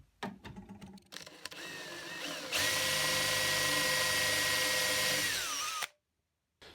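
A power drill bores a screw hole into an antique wooden table top, a steady high whine held for about three seconds after some quieter handling clicks, then cutting off abruptly.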